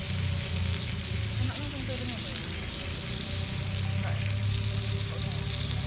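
Fish grilling over a campfire at a family campground gives a steady, close sizzle and crackle that runs through the whole stretch, with voices faintly in the background.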